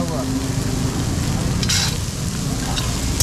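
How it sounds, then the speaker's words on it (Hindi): Soaked chickpeas fry and sizzle in a kadhai at a roadside stall in Punjab, a steady close hiss with stirring scrapes and a brief louder burst partway through. "भिगोया हुआ चना अब फ्राई होगा"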